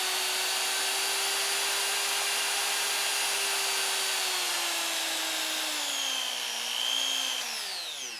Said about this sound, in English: 3 and under are the bursts or pulsating grinding, and 4, 5, and 6 are solid